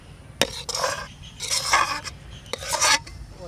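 A spoon stirs sour fruit chutney in a pot, making a handful of short, rough scraping strokes in an uneven rhythm, close and fairly quiet, with no voices.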